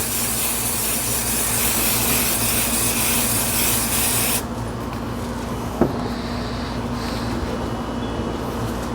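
An aerosol can sprays adhesive onto a wooden piece for an upholstered woodworking project, a steady loud hiss for about four seconds, then it stops, leaving quiet room noise and a single soft knock.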